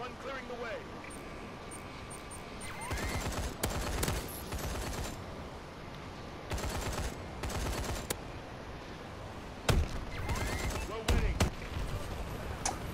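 Gunfire in Call of Duty: Advanced Warfare, including a suppressed BAL-27 rifle, with repeated bursts of rapid automatic fire over a steady background hum and aircraft noise, while a player talks over it.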